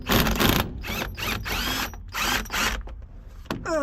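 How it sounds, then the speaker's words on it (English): Wrench ratcheting on bolts at the rotor gearbox of a Gleaner R52 combine, close metallic clicking in several rapid bursts with brief pauses between. "I'm going to take and pull the bottom 4 bolts."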